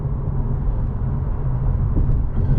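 Steady low engine and exhaust drone from a 10th-generation Honda Civic Si on a warm day, a continuous rumble holding fairly level throughout with no talking.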